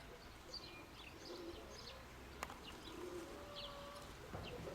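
Soft, low pigeon coos repeat a few times at a moderate distance, with faint chirps from other birds in the background.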